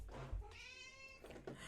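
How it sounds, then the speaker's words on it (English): A house cat gives a single drawn-out meow nearby, fairly soft and alone, with a little room noise around it. "sorry, that's my cat over there."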